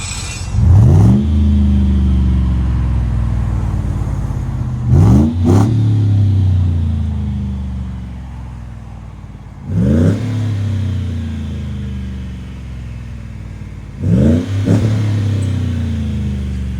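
A 2013 Chevy Tahoe 5.3L V8 with a Vibrant Street Power muffler revs hard four times at steady intervals, each throaty exhaust burst rising then falling back to a deep, rumbling idle, loud and close.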